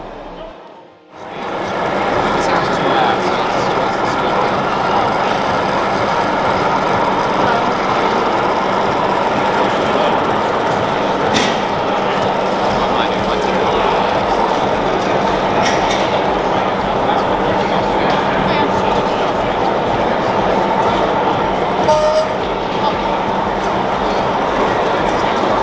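O gauge model trains run on a test track at an exhibition hall, a steady mechanical rumble and clatter carrying on under the constant murmur of a busy crowd and nearby talking.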